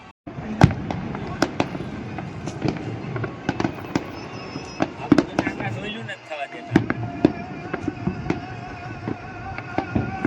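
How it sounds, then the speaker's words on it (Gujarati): Firecrackers burst repeatedly at an irregular pace during the Uttarayan kite festival in Gujarat, sharp loud cracks and pops, some near and some farther off, with voices talking faintly in between. "જોરદાર એટલે જોરદાર ફટાકડા ફૂટે છે."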